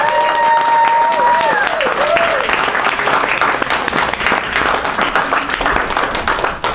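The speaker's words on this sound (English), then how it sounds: "But please give a big round of applause to our chairs of this event, Linda and Maria." Loud, sustained applause from an audience at a Toastmasters club celebration, dense clapping filling the whole stretch with some crowd noise and a few voices mixed in.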